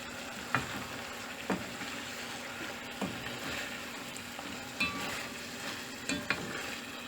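Chicken liver cooking in a pan with ketchup, giving a steady low sizzle throughout with a few soft utensil taps, quiet and close.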